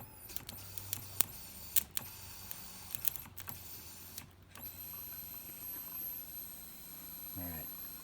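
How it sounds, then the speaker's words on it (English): An electric fuel pump, rigged to a junkyard 5.3 engine in a 1955 Buick Special build, runs as a steady, faint whine with a high tone. Scattered clicks and handling noises come before it. "Pump's running."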